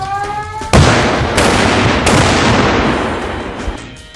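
A Razor 25 plastic strip cutting charge detonates after a brief quiet lead-in, a loud sharp blast followed by several more cracking bursts and a long rumbling, crackling decay, with no voices present.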